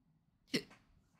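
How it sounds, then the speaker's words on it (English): A single short hiccup-like vocal burst from a character in the Tales of Symphonia role-playing game, quiet and isolated against near silence. "Ooh, hiccups."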